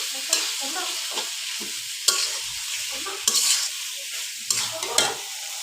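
Beef chunks being sautéed and stirred in a pan, a steady sizzle broken by several sharp scraping and clanking strokes of the spoon, close and fairly loud with no talking.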